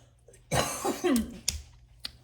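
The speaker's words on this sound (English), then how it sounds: "sorry, I just coughed and it's like clearing my throat" A single cough with a throat-clearing quality, close and fairly loud, followed by a few short breathy bursts.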